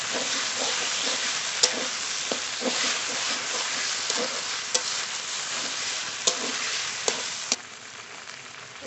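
Desi chicken being stirred and braised in a pan for a kosha curry: continuous close sizzling with repeated scraping stir strokes and occasional sharp clinks of the spatula, no talk.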